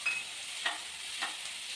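Green peas and potatoes fry in a pan while being stirred for a potato-pea kurma, with a soft steady sizzle and a few faint scraping strokes of the spoon, no one speaking.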